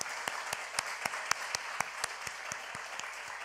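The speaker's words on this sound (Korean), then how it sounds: "우리 하나님께 영광의 박수 한번 올려드리겠습니다." A church congregation claps together in a steady, even rhythm, about four claps per second, sustained and moderately loud.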